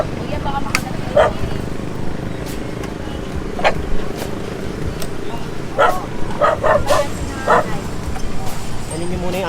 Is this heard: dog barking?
yes